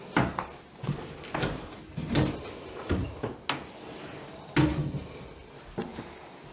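Wardrobe doors in a furnished bedroom open and close again and again, each giving a nearby wooden thud or clack, with a few lighter rattles between them and no talking.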